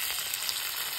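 Onion hits hot oil already seasoned with nigella seeds, bay leaf, dried chili and ginger, and fries in a steady, dense, close sizzle throughout the short moment.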